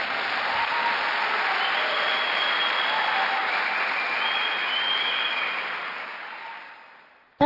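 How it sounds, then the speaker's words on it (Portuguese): A Sunday church congregation claps together in a broad, even wash of applause that holds steady, then fades out near the end before a sudden brief sound cuts in. "Dá um aplauso ao Senhor."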